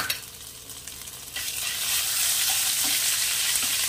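Ginger paste frying in hot oil in a pan, a soft sizzle that jumps to a loud, steady, close hiss after about a second and a half, with no talking.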